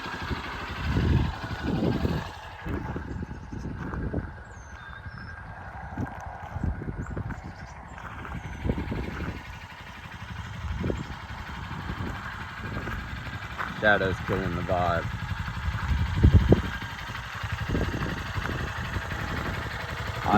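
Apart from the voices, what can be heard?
Honda XR150L motorcycle engine idling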